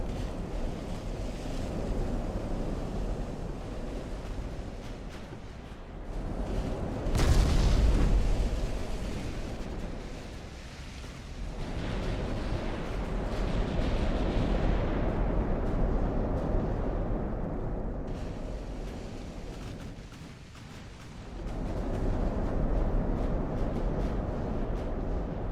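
Heavy cruiser 11-inch naval guns fire during a fleet battle in Ultimate Admiral: Dreadnoughts, one loud deep boom rolling out midway over a steady wash of sea surf and wind.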